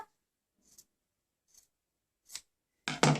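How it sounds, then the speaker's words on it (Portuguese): Scissors snip excess fabric off a sewn strap in a few short, separate cuts, the last one louder and longer, heard alone in a quiet room. "Então, a gente vai cortar essa sobra."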